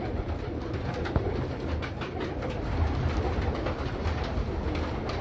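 Pigeons coo softly on a rooftop amid dense low background rumble and steady ambient noise, with faint clicks scattered throughout.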